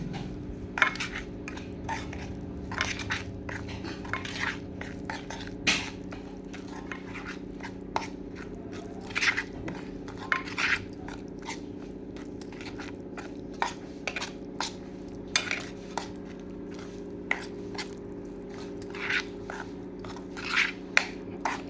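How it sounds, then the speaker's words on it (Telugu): Cabbage soggi ingredients, including lemon pieces and squeezed lemon juice, are stirred together in a bowl, with scattered clinks and scrapes of a spoon against the dish over a quiet, steady background hum, and no speech. "ఇలా అన్నీ పోసి కలుపుకోవాలి."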